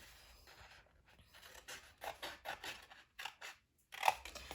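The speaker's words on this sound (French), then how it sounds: "on se coupe les bandes de collage" Scissors snip through strips of paper tape for homemade boxes in a series of short, close cuts with brief pauses between them, fairly quiet in a still room.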